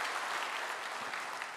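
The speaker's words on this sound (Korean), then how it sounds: "큰 박수 부탁합니다." A short stretch of dense, even applause from a church congregation during a Sunday service, steady and moderately loud.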